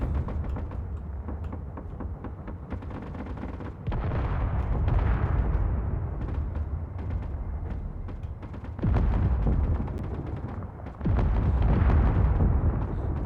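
Gunfire and explosions from the sci-fi video game Escape From Mars, sustained rumbling blasts with repeated loud bursts that swell sharply around the fourth, ninth and eleventh seconds, with no talking.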